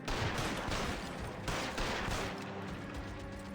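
Gunfire rattles through a shootout in L.A. Noire Remastered, with repeated sharp shots in quick bursts under a dense, busy battle mix.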